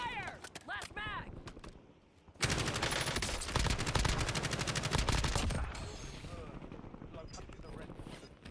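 Rapid automatic gunfire rattles loud and sustained in the Warzone battle royale, a dense burst of several seconds amid game voice callouts and ambient combat noise.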